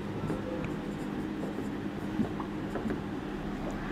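Pen or marker scratching on paper during a Bangla-language math lesson on binomial expansion, a faint, steady scribbling texture with small strokes throughout, no talk over it.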